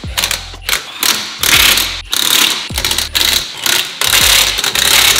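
Lug bolts on a BMW E46 wheel are driven tight with an impact wrench in four loud, close bursts of rapid rattling hammering, each cut off by a brief pause.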